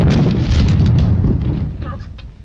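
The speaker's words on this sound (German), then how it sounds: "Eine Granate." A grenade explodes in the 1940 German-language film The Rothschilds. A loud, close, rumbling blast fades over about two seconds, and a faint voice comes in near the end.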